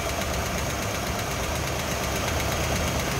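A 289 C-code V8 in a gold 1965 Ford Mustang convertible runs steadily, a dense continuous engine rumble with mechanical clatter filling the space at moderate level, no voices.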